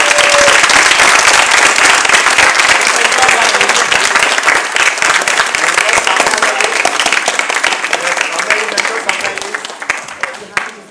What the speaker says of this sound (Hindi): मेंटर्स के लिए तालियां बजाइए